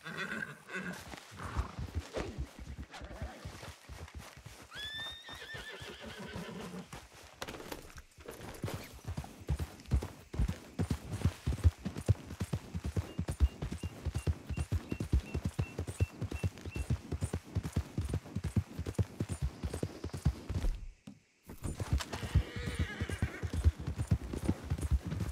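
Horse hooves clip-clop steadily up close while a horse whinnies and snorts repeatedly in Red Dead Redemption 2, with a brief gap near the end.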